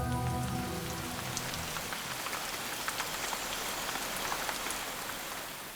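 Heavy rain pours steadily in a Madagascar rainforest, a dense even hiss of drops striking leaves and ground, continuous and alone without voices.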